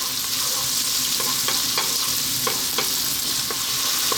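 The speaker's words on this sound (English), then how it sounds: "I just want to cook these onions for about 3 minutes just by themselves." Onions sizzle steadily in a pan over lively heat, a constant close frying hiss broken by occasional light utensil taps as they are stirred.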